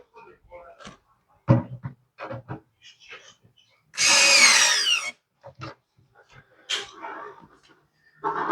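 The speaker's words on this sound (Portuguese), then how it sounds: "E furo sim." A power drill bores into a wall to mount a surfboard, one loud continuous whir lasting about a second, set between handling knocks, clicks and someone speaking Portuguese.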